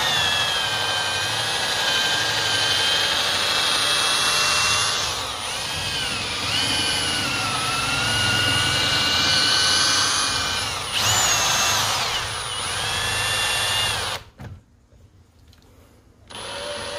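A power drill with a broken bit bores into wood while an axe is being rehandled, a loud whining motor with pitch shifts as it bites, running nearly nonstop before cutting out abruptly near the end.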